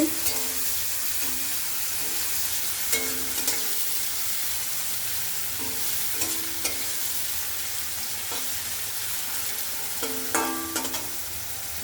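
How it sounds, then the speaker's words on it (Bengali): Continuous sizzle of flat beans frying in a pan, punctuated by repeated scraping strokes of a spatula stirring them. "এখন বটবটি ভেজে নিচ্ছি।"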